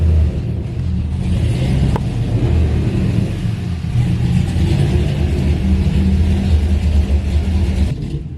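A Chevrolet Colorado pickup truck drives with a steady, loud engine rumble and rising revs heard from inside or close by, continuous for several seconds with no talking.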